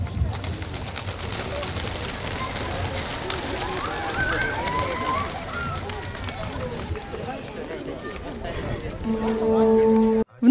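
Pigeons are released into the sky at a memorial ceremony after a minute of silence, a flurry of wing flapping and faint cooing amid crowd murmur, ending in a loud burst.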